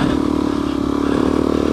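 A dirt bike engine in sand holds a loud, close, high-RPM buzzing drone with a steady pulsing rhythm throughout.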